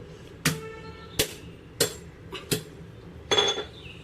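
Crab claws cracked with the wooden handle of a mortar pestle, five sharp knocks at irregular spacing, close and crisp, with a slight clatter on the last one.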